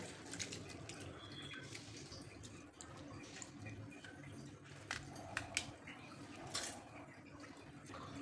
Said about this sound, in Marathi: स्वच्छ धुवून घ्यायची आपल्याला ही डाळ